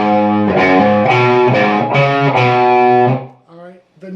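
Distorted electric guitar playing the first half of a song's lead rhythm: crunchy, sustained power chords strummed in a steady rhythm, loud and close, fading at the end before a faint trailing note.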